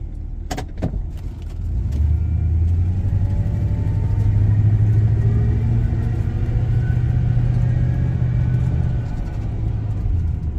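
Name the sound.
car engine as automatic transmission shifts gears while driving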